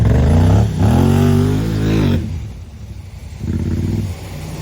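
Honda Talon side-by-side with 38-inch tires on 4-inch portals, buried to the frame, revving its engine hard in bursts, harmonic whine rising and falling, then a lower rumble with gravelly spinning noise, close and loud.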